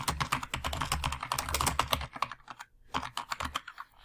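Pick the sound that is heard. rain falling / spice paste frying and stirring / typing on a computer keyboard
typing on a computer keyboard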